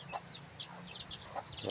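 A large rooster raised for cockfighting clucks and chirps in short, quiet bursts on a ranch, with scattered bird calls around it.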